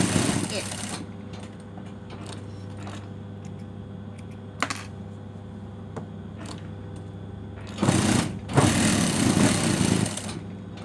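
A sewing machine stitches a dress skirt with a steady, close mechanical hum and scattered clicks, then louder, rapid running in two bursts near the end, with faint voice in the background.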